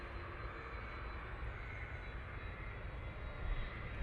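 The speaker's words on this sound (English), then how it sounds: "here comes the Aer Lingus A330" Aer Lingus Airbus A330 arriving at Manchester Airport, a steady broadband engine roar held at moderate level throughout, heard from some distance with no talk.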